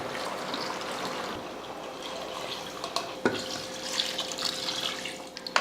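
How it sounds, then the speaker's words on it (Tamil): Water pours steadily into a cooking pot for a home-style Tamil curry, a continuous close trickle and splash that grows slightly busier toward the end, with light clinks against the pot. "இப்போ தண்ணி சேர்த்துடலாம்."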